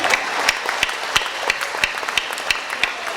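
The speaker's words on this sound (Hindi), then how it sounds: "तालियां कमजोर है आपकी" An audience at a late-night Hindi comedy poetry gathering claps in an even rhythm, about three claps a second, bright and fairly close, with a crowd murmur underneath.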